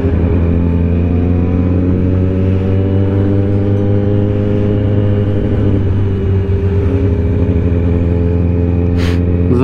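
Motorcycles rumble and rev at a 2021 motorcycle season opening gathering, with a loud, continuous, close engine drone and overlapping idling bikes throughout.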